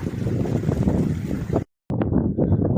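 Strong gusting wind in the Lake District hills buffets the microphone with loud rumbling roars, cutting out briefly to silence before the blustery noise resumes.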